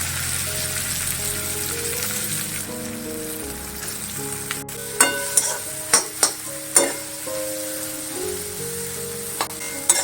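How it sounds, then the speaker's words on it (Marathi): Bitter gourd seeds frying in hot oil in a pan, a steady sizzle with several sharp spoon clicks and scrapes partway through, close and fairly loud, no voices. "तेल गरम झाल्यानंतर त्या बिया आपण भाजून घ्यायचे तेलावरती परतायचे"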